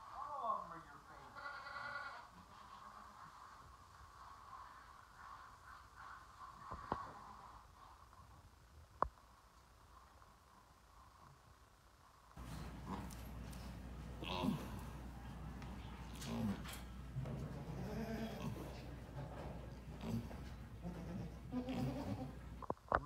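Goats bleat now and then at a distance over a quiet farmyard hum, one doe about to give birth, with faint insect buzzing and a louder, busier stretch later.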